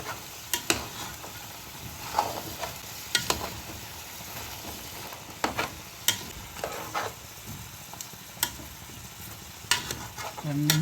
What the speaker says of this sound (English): I'll let my veg all fry nicely